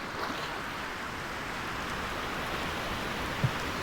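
Sea water sloshing and washing into a small sailing boat in the game Sailwind, a steady broadband rush of water with one brief knock near the end, no voices.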